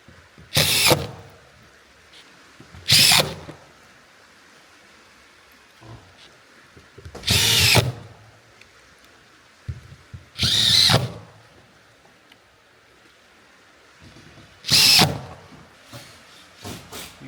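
A power drill drives screws into the wood of a panoramic barrel sauna during assembly, with five separate short whirring bursts spaced a few seconds apart, close by, with quiet gaps between.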